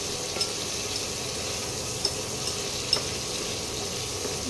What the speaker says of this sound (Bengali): দুটো পিঠ একটু ভাজা হয়ে গেলেই নামিয়ে দেবো